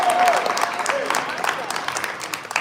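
A room full of people bursts into brief applause, the clapping fairly close and tapering off, with a voice speaking over the start.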